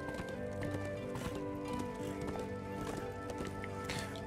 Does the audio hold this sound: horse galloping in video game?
yes